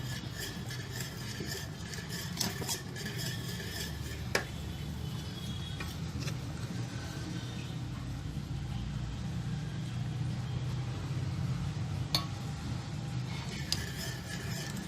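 A bread crumb mixture stirred in a pan on a stove, a continuous soft scraping and rubbing with occasional sharp metallic clinks of the utensil against the pan, close and steady.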